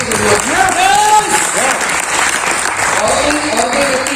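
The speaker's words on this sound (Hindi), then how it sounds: "आप सर के लिए बिल्कुल तालियां हैं" Audience applause at a network marketing seminar fills the room steadily from start to finish, loud and continuous, with voices and cheering tones rising over the clapping.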